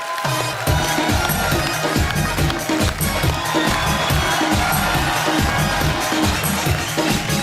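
On The Kapil Sharma Show, a studio audience gives loud, sustained applause and cheering to welcome poet Anjum Rahbar, a dense wash of clapping over a pulsing music beat.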